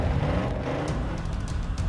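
A Toyota Tundra pickup truck engine rumbles in a steady, dense low growl, loud and close, with no talking.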